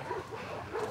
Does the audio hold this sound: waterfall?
no